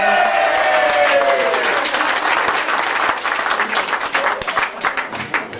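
Loud, dense applause from an audience at a comedy stage hypnosis show fills the room, then gradually thins into scattered clapping.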